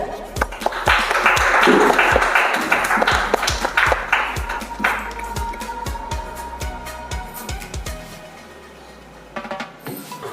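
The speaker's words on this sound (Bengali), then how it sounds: "ছোট একটা হাততালি হয়ে যায়।" Applause from a reality-show audience for children on stage, a broad wash of clapping building early then thinning into scattered individual claps before fading out.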